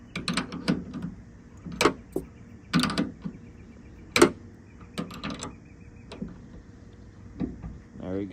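Ratcheting and creaking clicks come in irregular bursts as a bolt holding a truck ditch light is tightened by hand, close up, with a person talking intermittently.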